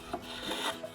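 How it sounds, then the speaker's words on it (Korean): A blade shaving the outer wood of a handmade Korean janggu drum body, giving a dry, close rasping scrape in short strokes with no talk. "나무 겉을 사포가 아니라 칼로 다듬네요"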